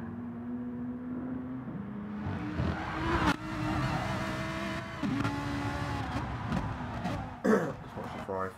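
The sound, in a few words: Ferrari F4H Rosso car engine in video game GT Sport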